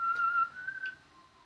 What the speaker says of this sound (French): Le sifflement, lui, contraste un petit peu avec la tonalité plutôt angoissante de la scène.